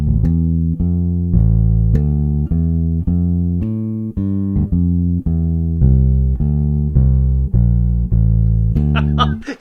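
A bass guitar plays a walking bass line over a four-bar phrase, a steady stream of about sixteen even, plucked low notes, each close and loud with a short decay, and no voice over them.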